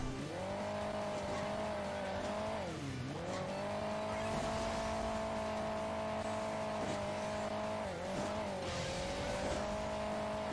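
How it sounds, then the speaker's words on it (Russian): A rally car in the video game Hill Climb Racing 2 holds a steady droning engine tone that dips and rises twice as the revs change, with faint tire noise and no voices. "Поехали с тобой на раллийном авто"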